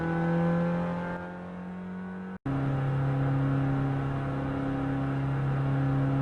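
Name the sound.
car accelerating fast in a racing simulator video game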